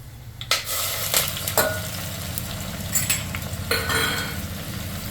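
Chopped onion going into hot oil with whole spices for a chicken rice tempering, a steady close sizzle broken by several sharp clanks and scrapes of a spoon stirring against the pan.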